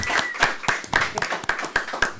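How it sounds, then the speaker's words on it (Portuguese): An audience claps for a guest pastor at a church podcast, with close, steady, fairly loud hand claps for about two seconds. "muitos aplausos pro pastor Samuel"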